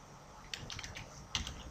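A few light clicks of typing on a computer keyboard come in two short clusters, close and fairly quiet against a faint background hiss.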